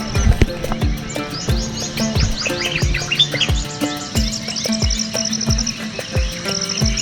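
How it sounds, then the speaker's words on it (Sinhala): Many birds chirping and calling at once, with repeated low cooing of doves, steady and lively outdoors at an early-morning boat landing by the Maduru Oya reservoir, no talking. "කුරුළු කොබෙයියන්ගේ සද්දේ"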